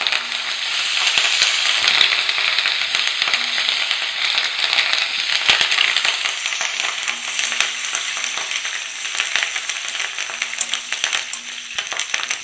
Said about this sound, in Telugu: ఇలా వేగిన తర్వాత కరివేపాకు రెమ్మలు కూడా వేసేసుకోవాలి.